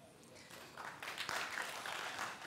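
Faint scattered clapping from a studio audience at a televised Indonesian talk show, building slightly and continuing steadily, heard at a distance.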